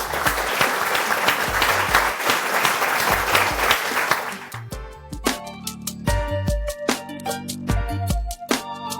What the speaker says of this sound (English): And please join me in giving a huge round of applause to Liza Semenova and Chris Wymant.